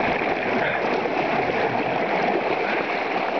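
A river rushing over rapids gives a loud, steady, close roar of broadband water noise with no pauses and no voices.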